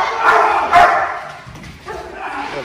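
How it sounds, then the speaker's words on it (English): Police K9 dog barks and yelps loudly and up close during bite training against a decoy, with excited bursts over handlers' shouted voices. "Send the dog. Send him."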